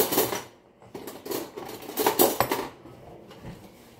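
Two spoons working through a chocolate ball mixture in a bowl, giving irregular clinks and scrapes of metal against the bowl in uneven bursts, close by with no talking.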